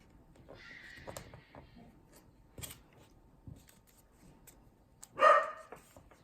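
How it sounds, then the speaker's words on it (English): A dog barks indoors a few times, sharp isolated barks spread across several seconds, the last one loudest and closest, with quiet room noise between. "Excuse my dog for barking."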